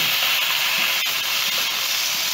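Steady loud hissing sizzle of water hitting browning beef in a hot pressure cooker pot, constant and close, with a few faint clicks and no talking.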